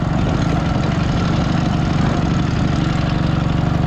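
Dnipro MT motorcycle engine running loud and close while riding, a steady throbbing rumble with even pulsing beats throughout.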